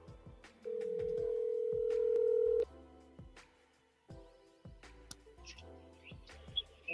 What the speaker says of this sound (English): let me go ahead and make this phone call